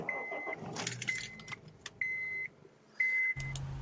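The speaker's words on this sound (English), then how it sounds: "That's why you hear beeping." A charging device beeps repeatedly in short high tones, each lasting about half a second at regular intervals, amid faint jangling and rustling handling noise, with no one speaking.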